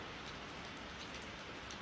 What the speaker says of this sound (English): It's raining in every spot but on that damn Cheeto.